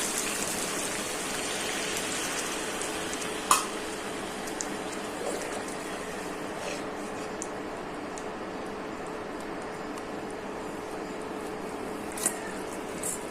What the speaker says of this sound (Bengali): এখন হালকা একটু জল দিয়ে দিচ্ছি।